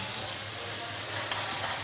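Prawns hitting a yogurt-based karahi curry in a hot pan, giving a steady, fairly loud frying sizzle for a brief moment with no talk.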